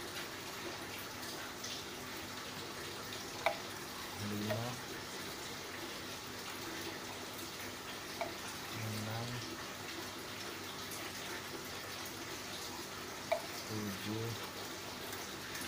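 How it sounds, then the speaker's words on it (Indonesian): Nitrobacter is mixed into plain water for a test on making barren soil fertile. Faint, continuous running and swirling water is heard, with a few soft splashes recurring every few seconds. "Inilah proses pencampuran nitrobakter pada air biasa."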